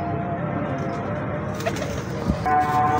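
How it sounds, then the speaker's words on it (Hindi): Performance pigeons of a plains breed coo softly and steadily near at hand, a low murmuring call repeated through a faint outdoor background. "ये है परफॉर्मेंस वाले कबूतर, मैदानी कबूतर"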